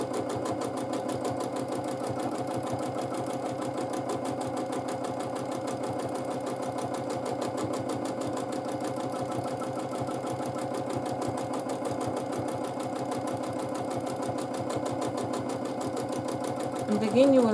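A sewing machine doing free motion quilting practice designs runs in a fast, steady needle rhythm at close range, continuous and even, with a brief bump at the very end.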